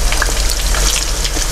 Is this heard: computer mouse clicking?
no